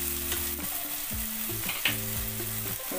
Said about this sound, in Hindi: ये देखिए मसाला जो है एकदम फ्राई हो गया है